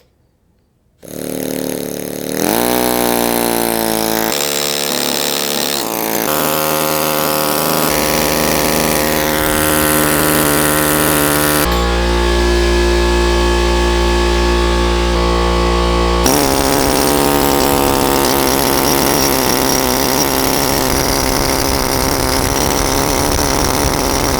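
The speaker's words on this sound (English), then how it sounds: "you actually have to hold it with your hand as you're starting up the chisel, and then hold the chisel in place as you're working" A power chisel carving stone, held in both hands, runs as a loud continuous mechanical buzz and whine that starts up after a brief silence and shifts pitch as it pushes into the stone surface and breaks it away.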